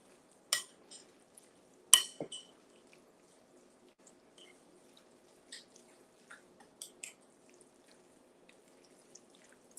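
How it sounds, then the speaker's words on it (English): Spoon scraping and clinking against a bowl while stirring an all-purpose marinade, with scattered soft taps and wet squishes at close range, quiet overall. "And give this a stir."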